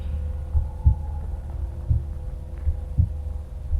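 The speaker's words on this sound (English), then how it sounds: "Feel your heartbeat." Slow, steady heartbeat felt through a hand on the chest, each low double thump sounding about once a second over a constant low hum, with no talking.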